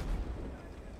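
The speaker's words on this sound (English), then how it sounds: "I'm dropping a grenade in the hatch." Muffled grenade blast inside a tank hatch in Arma 3, a single low, dull boom at the start that rumbles and fades quickly, fairly faint and distant-sounding.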